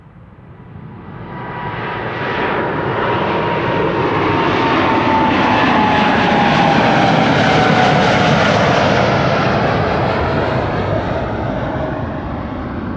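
A KLM Boeing 787-10 jet departing on runway 24, the Kaagbaan, at Amsterdam Schiphol, a loud roaring engine rumble that swells over a few seconds and holds steady as it passes, fairly near, with no voices.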